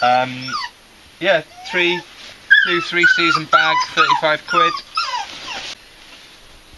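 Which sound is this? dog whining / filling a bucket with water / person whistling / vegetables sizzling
dog whining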